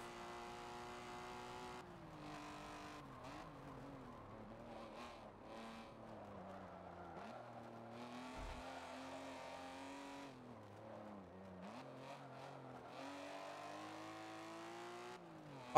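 Race car in Forza Motorsport 7 revving hard under full throttle, the engine note climbing and dropping through gear changes with occasional tire squeal, loud and continuous for the whole stretch.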